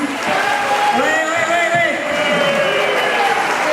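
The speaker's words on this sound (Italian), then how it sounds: "un applauso per i ragazzi" Crowd applause for a group of boys at a live show by an Italian dance orchestra, a continuous clapping wash with someone talking over it on a microphone and music playing beneath.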